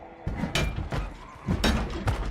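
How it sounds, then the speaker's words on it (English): Repeated heavy thuds of a security door being broken down in a zombie survival video game, five or six loud blows at uneven intervals, close and booming. "Break this door down."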